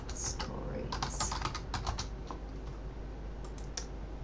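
Typing on a computer keyboard, a quick run of light, close clicks in clusters with pauses between them, soft and alone, no talking.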